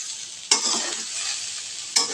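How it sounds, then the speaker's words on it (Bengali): A vegetable bhaji sizzles steadily in a pan, with two sharp scrapes of a spatula stirring it about a second and a half apart, close and clear with no talk. "দেখুন আমার ভাজিটা কিন্তু হয়ে গিয়েছে"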